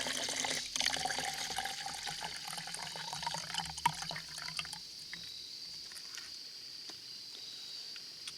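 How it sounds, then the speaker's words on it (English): Vinegar or lemon juice, about a cup, is poured over crushed rust, making a faint, continuous trickle of liquid that tapers off toward the end. "I'm going to take my 1 cup of either vinegar or lemon juice and pour it over the top of our rust"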